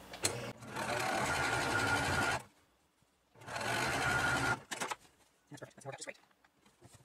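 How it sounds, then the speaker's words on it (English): Sewing machine stitching along the edges of quilt fabric pieces for a table topper, running in two steady bursts of about two seconds each with a pause between, close and loud, followed by quieter handling noises. "you want to start right on the edge and just sew up all four of these."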